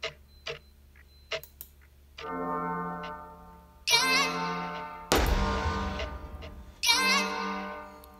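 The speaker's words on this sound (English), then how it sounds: "got this clock sound" A clock-tick sample in an FL Studio beat gives sparse, sharp ticks over sustained tonal chords, with bright bell-like accents and a loud crash partway through.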